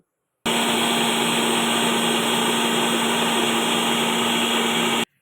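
An electric blender grinds ripe mango with cold water and sugar for juice, a loud, steady whine that starts abruptly, holds even for about five seconds, then cuts off.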